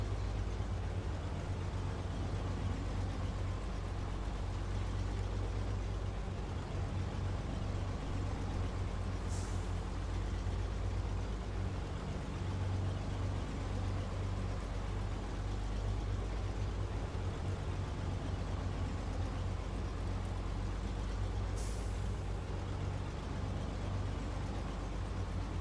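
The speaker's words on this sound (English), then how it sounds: "This might not be the fastest truck on the road" A slow, low-powered truck used for power line maintenance drives along the road, its engine rumbling as a steady, loud drone throughout, with two brief faint hisses.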